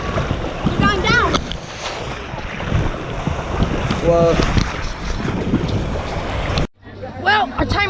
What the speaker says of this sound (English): Oh no, the waves are starting to die down, I think.